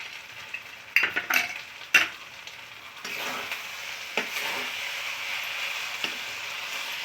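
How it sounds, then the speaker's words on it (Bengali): A spatula stirs banana-stem muri ghonto curry with garam masala powder in a pan, sharp clanks and scrapes at the start over a soft, continuous sizzle that carries on alone. "আর একবার ভালো করে আমি নেড়ে নিচ্ছি।"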